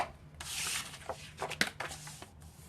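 Paper cover pieces cut from 12 by 12 sheets are scored for a Halloween craft, a quiet series of scraping, rubbing strokes with small taps.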